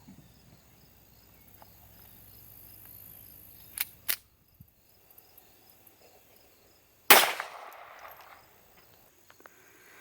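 A single sharp crack of a .22 LR Federal high-velocity solid bullet being fired, loud and abrupt against a quiet outdoor background with faint insect chirping and a couple of small clicks beforehand.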